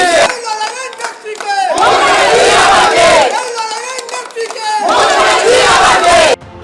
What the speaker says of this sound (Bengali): এদিন তৃণমূল বিধায়ক ও পর্যটন মন্ত্রী বাবুল সুপ্রিয় যখন বৈঠকে পৌঁছন তখনও সেই স্লোগান চলছিল।